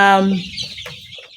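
Chickens inside a brooder give a short burst of clucking, one close loud call that tails off into softer clucks.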